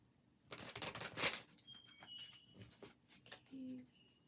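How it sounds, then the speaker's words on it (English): Soft riffling and flapping of tarot cards being shuffled, a quick burst followed by lighter taps and shuffles, close by and quiet. "One more shuffle."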